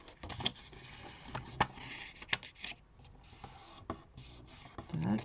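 Paper folds on a greeting card are creased by hand in sharp, dry scraping and rubbing strokes, a few distinct swipes, close and fairly quiet.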